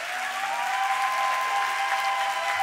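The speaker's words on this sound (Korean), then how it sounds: "여러분, 이 서약에 큰 박수를 한번 보내주시기 바랍니다" A church congregation at a pastor's ordination service applauds after the candidates' vows, a thick, continuous burst of clapping from many people, steady and fairly loud throughout.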